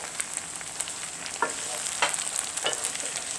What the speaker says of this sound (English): So you fry onions and aubergine until it's kind of light gold brown.